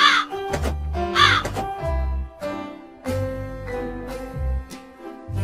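A crow caws repeatedly in a storybook cartoon, with loud, harsh calls in a steady rhythm and a resonant low undertone, close and with no talk.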